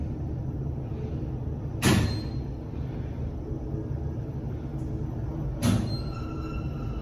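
A Kone traction elevator in an airport parking garage gives two sharp knocks, likely its door striking the door track, about four seconds apart over a steady low machinery hum.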